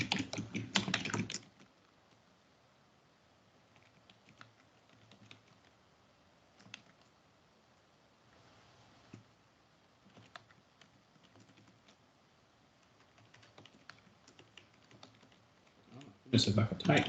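Typing on a computer keyboard while entering ad copy, with light scattered key clicks across the middle stretch, fairly quiet, bracketed by louder bursts of sound at the start and end.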